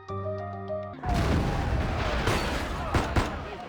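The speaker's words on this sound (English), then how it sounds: "Gunfire and the sound of tables and chairs getting knocked over intermingle" Gunfire erupts in the Love and DeepSpace video game, with a loud boom after a brief musical tone, followed by a sustained barrage of shots and crashing debris.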